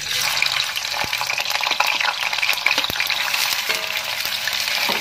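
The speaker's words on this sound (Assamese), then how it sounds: "অকণমান ৰঙচুৱা হোৱালৈকে মই ভাজি ল'ম পনীৰ কিপিচ" Paneer pieces frying in hot mustard oil in a wok, giving a loud, dense, continuous sizzle with a few sharp spatula clicks, and no voices.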